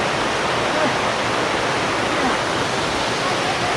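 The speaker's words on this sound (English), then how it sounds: "I really think this is one of my favorite falls though that I've ever seen." Stinging Fork Falls pours down in a steady, dense roar of falling water, loud and close, with no breaks and no voices standing out.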